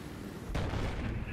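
Burst of gunfire in Battlefield 4 aimed at a rock, a sudden loud broadband blast about halfway through that rumbles on for under a second over a steady game background.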